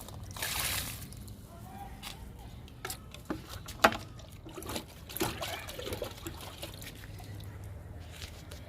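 Liquid fertilizer trickles and splashes onto a sweet lemon plant, a short burst of pouring followed by scattered drips, taps and small sloshes, quiet and close.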